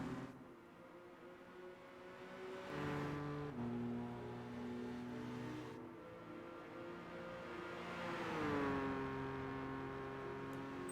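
A racing car engine in Gran Turismo 5 drones with a buzzy harmonic tone that drops and climbs as it shifts through gears, swelling into a higher rev near the end, fairly faint overall.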